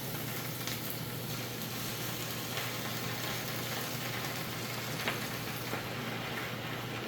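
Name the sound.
beef for gyudon sizzling as it is added to the pan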